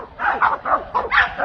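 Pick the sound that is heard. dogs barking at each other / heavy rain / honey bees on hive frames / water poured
dogs barking at each other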